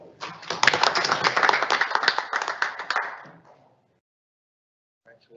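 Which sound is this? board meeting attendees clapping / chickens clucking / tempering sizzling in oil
board meeting attendees clapping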